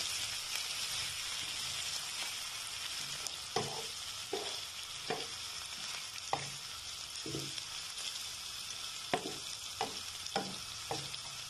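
Button mushrooms cooking with chilli sauce in a garlic-butter pan give a steady close sizzle, with repeated clicks and scrapes from a spoon stirring at irregular intervals.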